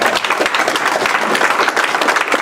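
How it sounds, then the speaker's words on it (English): A crowd at a zoning commission hearing breaks into loud, close applause, a dense rapid patter of many hands clapping throughout the short stretch. "I think you need a round of applause tonight"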